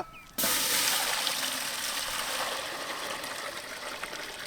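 Water gushes into a cooking pot holding chopped mutton boti with mint and turmeric, starting suddenly and pouring in a steady, close stream that slowly eases.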